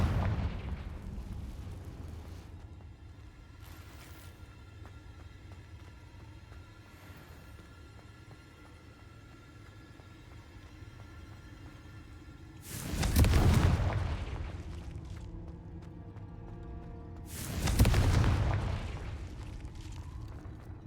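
Two Confringo spell explosions in Hogwarts Legacy, each a loud booming blast with a deep rumbling tail a few seconds apart, following a stretch of quieter game ambience and faint effects.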